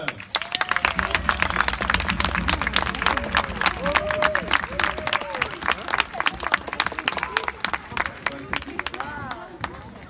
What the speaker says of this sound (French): On applaudit, quoi.